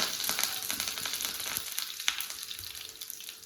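Fenugreek seeds, curry leaves and two dried red chillies sizzle in hot coconut oil with mustard seeds, a steady close crackle with scattered pops that softens toward the end, and no voices.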